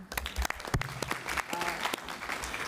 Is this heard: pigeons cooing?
no